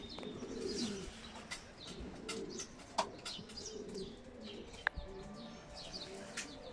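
Racing pigeons entering their loft after a 520 km race coo softly and chirp, with a couple of sharp wing claps, heard at low level.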